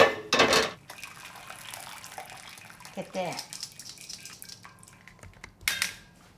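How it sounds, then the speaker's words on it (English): Cooked soybeans being drained in a kitchen, water splashing and pouring with light clinks of a pot, a brief burst at the start and another near the end, with a short spoken remark. "I'm going to drain this."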